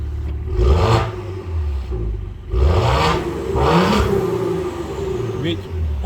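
A Maserati Ghibli S with its 3.0 petrol engine in sport mode revs hard three times, each rise and fall sharp and close, its growl continuing between the blips.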